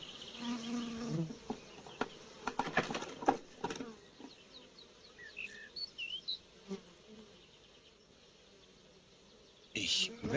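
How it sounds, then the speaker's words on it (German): Bees buzz around a beehive, a steady insect drone with scattered louder passes close by, accompanied by bird chirps and some voices in the background. "Das Bienenhaus!"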